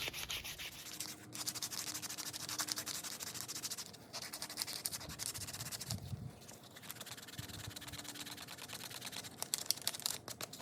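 A leather knife sheath is sanded by hand with 220 grit sandpaper, giving a steady, close scratchy rubbing with rapid back-and-forth strokes and brief pauses, no talking.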